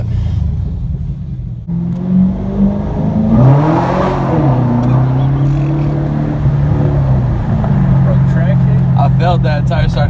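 A 600-horsepower Cadillac CTS-V accelerates hard from inside the car, its engine note climbing in a steady loud rumble and rising whine over about ten seconds, with people talking and whooping over it.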